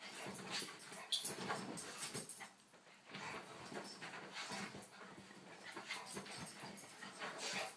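A small dog pants steadily with soft whimpers and faint yips mixed in, close by and continuous, with a brief quieter lull partway through.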